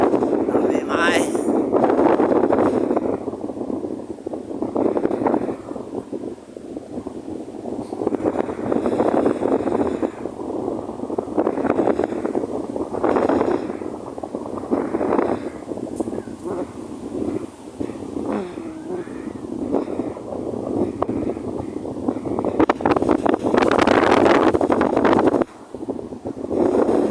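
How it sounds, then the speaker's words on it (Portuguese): Strong wind buffets the microphone outdoors in San Francisco, California, a steady rumbling roar that runs throughout while someone talks over it at close range. "Se tiver um barulho aí, pessoal, é o vento. Tá muito vento aqui."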